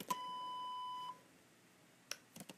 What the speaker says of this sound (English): if I hit spacebar, it is going to have a loud beep, normal for my task cam